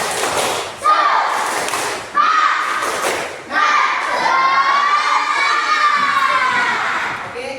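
A class of children clapping and shouting the tepuk semangat chant together, loud bursts of claps and thuds followed by an energetic group yell, close and noisy.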